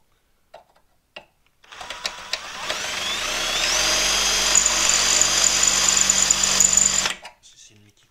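A power drill bores a hole for an M8 screw in a Honda Civic Type R EP3 front end during disassembly, spinning up sharply and running steadily for about five seconds before stopping, close and loud, with faint clicks before and after.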